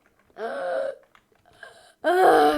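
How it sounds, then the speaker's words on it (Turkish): A person gasps sharply for breath after holding it in, with a strained, moaning inhale, a short pause, then another loud, ragged gasp. The sounds are close and alone, with no speech. "Ben nefes almamak için kendimi çok zor tutuyorum."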